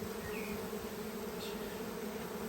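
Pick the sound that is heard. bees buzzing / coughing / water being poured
bees buzzing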